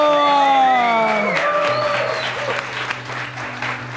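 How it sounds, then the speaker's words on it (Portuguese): A studio audience at the final of a Brazilian reality show bursts into loud applause with cheering and whoops, the clapping swelling early and then continuing steadily as music plays beneath. "uma salva de palmas pra todo mundo"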